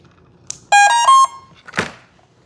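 An electronic speed controller in a twin 35mm EDF Horten Ho 229 RC plane gives a startup beep sequence: a short blip, then a run of loud, clear musical tones, followed by a brief rustle.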